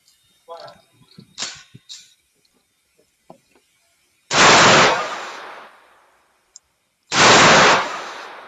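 Panzer Arms EG200 shotgun firing Winchester rounds outdoors, two loud sharp blasts a few seconds apart, each followed by a decaying echo, with handling clicks and faint movement noises before them.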